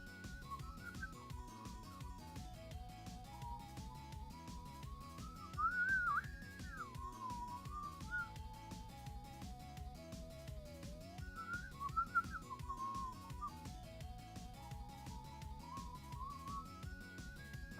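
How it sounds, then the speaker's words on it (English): A synthesized MIDI whistle plays a wandering melody in a song, with short phrases and pauses, faint and thin over a soft musical backing. "I like the MIDI whistle."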